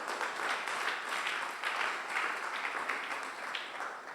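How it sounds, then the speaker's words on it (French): A church congregation at a Sunday praise and thanksgiving service applauds and cheers, a dense sustained wash of clapping filling the room for several seconds. "Acclame très fort pour la gloire de Jésus."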